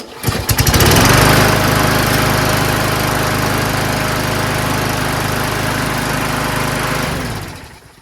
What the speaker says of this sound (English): Engine sounds great.